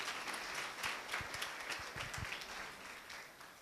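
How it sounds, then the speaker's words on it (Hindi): A school audience breaks into sustained applause at a student function, many hands clapping together at moderate distance, steady for several seconds before easing slightly. "ताली बजाएं"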